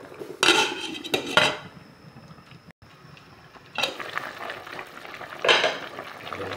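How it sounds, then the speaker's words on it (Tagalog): A metal lid clatters onto a pot of tuna soup with Malabar spinach and okra, a couple of sharp clanks near the start and another bump later, with faint kitchen noise between. "Tapos takpan natin ulit."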